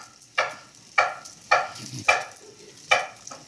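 Onions and half-cooked potatoes sizzle in a pan for a potato and egg frico, with about six sharp stirring scrapes at a steady pace over a continuous close frying hiss.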